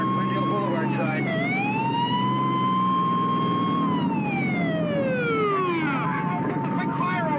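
An ambulance siren wails loudly and continuously in a 1976 science fiction horror film, its pitch rising and falling in slow sweeps over a dense rumbling background, with voices shouting briefly beneath it.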